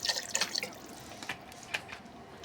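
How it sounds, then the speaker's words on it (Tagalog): Water trickles into a pot of squid sinigang with lemongrass, giving faint, irregular splashes and drips, a few brighter spatters early, then sparse drops over quiet background. "Lagyan natin konting tubig."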